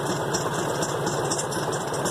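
A tractor engine, said to have been rebuilt, runs at a steady idle with an even, close, loud mechanical chugging and knocking rhythm throughout, with no talk.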